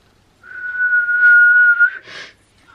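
A person imitates a referee whistle by mouth-whistling one long, steady, shrill tone for about a second and a half, followed by a brief breathy burst.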